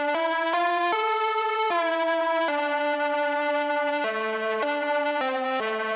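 A bright, sustained synth lead carries the main melody of the Derelict Site soundtrack, stepping through held notes one after another with a rich, buzzy tone, playing alone and continuously.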